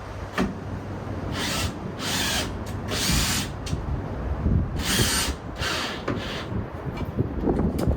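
A power drill drives screws into a scrap wood block fixed in place for an attic ladder install, loud and close, with repeated whirring bursts of the motor and the bit grinding into wood.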